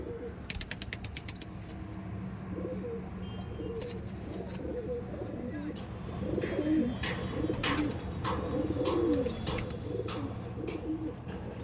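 Andhra Madrasi pigeons coo in a loft, with low, throaty calls that swell and overlap in the middle. Light clicks and rustling from the birds run through the background.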